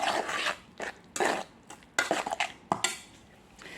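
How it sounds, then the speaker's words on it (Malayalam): Kenyan fruit salad, coloured orange with orange juice, being mixed in a bowl: a string of close clinks and scraping clatters of a utensil against the dish, in irregular bursts with short pauses between, no talking. "അതിന് ശേഷം നമ്മളത് ഒന്ന് മിക്സ് ചെയ്യുകയാണ്"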